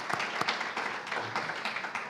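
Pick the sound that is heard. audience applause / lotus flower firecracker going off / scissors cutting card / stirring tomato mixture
audience applause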